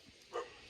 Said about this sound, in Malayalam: ആ വരുന്നോട്ടോ നായി